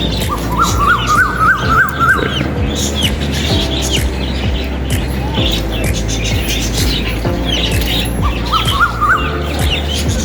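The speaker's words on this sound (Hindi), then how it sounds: "कितनी प्यारी आवाज़ आ रही है कोयल की।" An Asian koel calls repeatedly from farm fields in rural India, its rising whistled notes coming in quick series, moderately near, over steady background hum and other birdsong.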